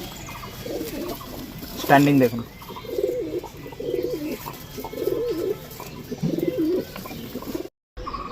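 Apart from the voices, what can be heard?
pigeons cooing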